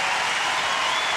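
Dense applause from the home crowd at a US Open 2018 tennis match, a steady roar of clapping filling the whole short stretch without any pause.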